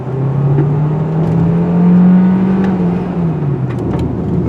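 A 2023 Hyundai Tucson Hybrid accelerates from inside the cabin, its engine drone rising smoothly in pitch, holding, then easing off, loud and steady with road noise beneath.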